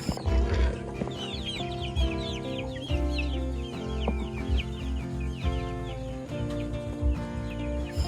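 Chicks and hens clucking and peeping continuously at a small backyard poultry pen, several birds close by with overlapping calls over a steady low background hum.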